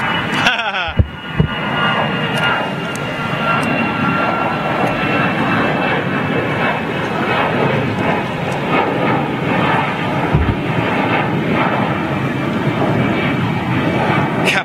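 Jet airliners roar overhead during an Airbus 50th anniversary fly-past at Toulouse, a loud, sustained broadband engine rumble that fills the whole stretch with little change in level.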